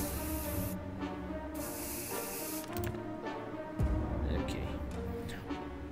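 Bug spray hisses from an aerosol can in the video game 60 Seconds in several short bursts, mixed with mechanical game sounds and a low thud partway through.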